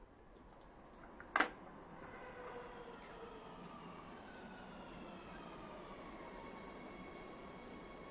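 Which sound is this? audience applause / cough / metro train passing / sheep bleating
metro train passing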